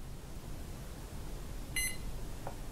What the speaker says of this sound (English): So I hear the one beep.